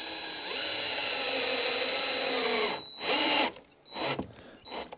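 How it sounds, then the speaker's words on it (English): A power screwdriver drives a screw into the center of a disc on a CNC machine with a loud, steady whir that stops with a ratcheting burst, followed by short clicks and a brief final spin. "I'm going to take my screwdriver and I'm going to take a nice screw and put it right in the center. I'm going to run that down."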